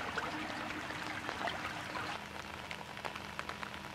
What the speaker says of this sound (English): The rain kept up, but it was only going to be a shower, we thought.